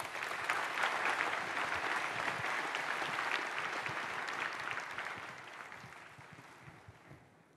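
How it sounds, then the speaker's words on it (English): A large keynote audience at SAP Sapphire gives a sustained round of applause for the event crew, broad steady clapping that gradually tapers off toward the end. "a round of applause for our thanks"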